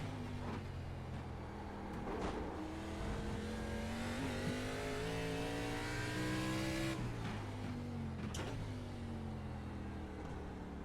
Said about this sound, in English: Little wheel spin there.